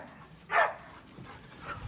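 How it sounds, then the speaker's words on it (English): Dogs at play outdoors on a farm with horses and ponies, giving one sharp yip or bark followed by faint whimpers and movement, fairly distant and with no talk. "And there's the other one, playing with the dogs."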